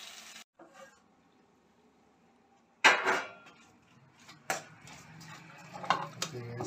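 Cooked lanku vegetable being served from a pan with metal utensils: quiet scraping and stirring, then a few sharp clinks and knocks of spoon against metal cookware, close by and with no talk.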